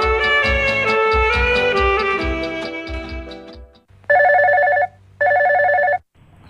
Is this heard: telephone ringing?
yes